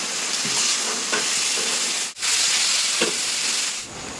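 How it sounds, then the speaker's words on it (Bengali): Pre-fried potatoes and soya chunks sizzle loudly in spicy masala with a constant frying hiss, broken by a few spaced scraping stirs in the pan and one brief pause. "এখন আমি ভেজে রাখা আলু আর ভেজে রাখা সয়াবিন কিন্তু দিয়ে দেবো এর ভিতরে দিয়ে আরও সুন্দর করে কষিয়ে নেব"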